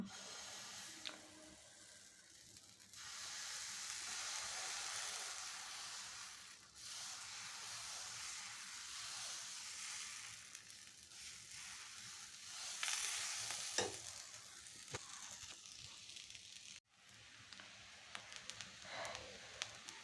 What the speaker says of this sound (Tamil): இப்போ தோசை சுட ஆரம்பிக்கலாம்